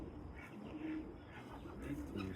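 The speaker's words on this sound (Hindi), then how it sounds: "ये क्या कबूतर है?" Pigeons coo softly in a low, repeated rolling murmur at close range, with faint background noise and no clear talk over them.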